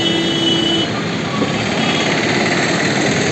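A train stands at a station in Sri Lanka, its engine or wheels producing a loud, continuous mechanical rumble and rattle close by, with a faint high squeal early on and no talking.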